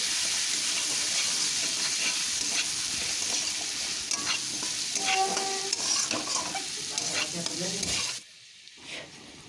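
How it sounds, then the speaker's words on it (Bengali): Ginger paste and turmeric powder sautéing in a pan for a pumpkin and green pea dish, a steady close sizzle with scraping stirs that cuts off near the end, leaving near silence. "দিয়ে দিলাম এক চামচ আদা বাটা দিয়ে দিলাম হলুদ গুঁড়ো এখন একটু কষিয়ে নিচ্ছি"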